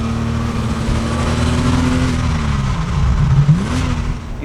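A Porsche Boxster 986 engine and exhaust recorded close from the rear of the car, a loud continuous growl that rises and falls as the revs change, dipping then climbing again near the end.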